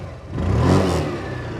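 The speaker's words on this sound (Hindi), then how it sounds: "तो मैं सिर्फ ब्रेक दबाऊंगा और ये इंजन स्टार्ट हो जाएगा।" A Hero Destini 125 scooter engine fires up through its i3S start system and settles into a soft idle, a brief whirring swell that eases to a low, close hum.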